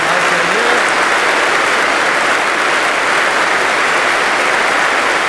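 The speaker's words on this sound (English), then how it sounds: "So let's give a big round of applause to Fernando." Loud, dense applause from mourners at a funeral for a sheriff's deputy, continuous and steady throughout with no gaps.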